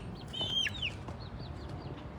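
Chickens and chicks in a sunny farmyard give high peeping chirps and soft clucks, a loud burst of cheeping early on, then scattered quieter peeps over low background murmur.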